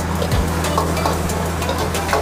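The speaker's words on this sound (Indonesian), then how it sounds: "Kita kacau-kacau biar cili tadi yang kita tumis" Chili paste stir-fried in a pan for fried rice vermicelli (bihun goreng), giving a steady close sizzle with soft scraping stirs throughout, no voices.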